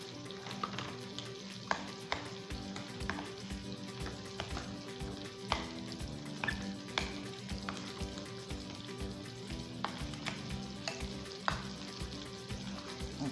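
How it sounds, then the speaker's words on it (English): A mayonnaise mixture is stirred in a bowl for a spicy sweet and sour salmon with mashed potatoes, giving a steady, close run of wet scraping and clinking strokes with a few sharper knocks, continuing without pause and with no talk. "let me mix it up"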